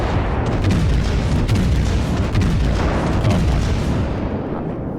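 A warship's naval gun fires in the game World of Warships, a heavy, loud, close boom that swells into a long rumbling roar and slowly fades away, with no talking.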